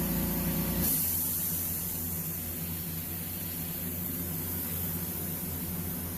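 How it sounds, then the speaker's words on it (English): Steady hiss of air from an airbrush with a sticking trigger, dirty and uncleaned, while airbrushing paint; a louder burst in the first second then a continuous softer rush with an underlying hum. "I don't know if you hear my air stays on a little bit longer on this one, because I did not clean this airbrush."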